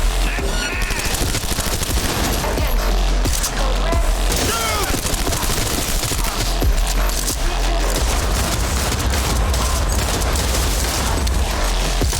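Rapid video game gunfire in Cyberpunk 2077, dense automatic bursts and booming impacts that fill the whole stretch loudly and without pause.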